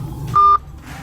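Keypad tones from a phone as a number is dialed, a single steady beep held for about a quarter second over a low background hum, with no talking.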